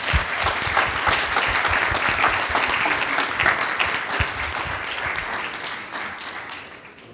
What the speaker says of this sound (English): big round of applause for all the participants